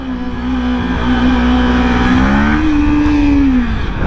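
A motorcycle engine holds a loud, rising and falling rev while the rider balances a wheelie at about 15 miles per hour, the pitch climbing then dropping near the end.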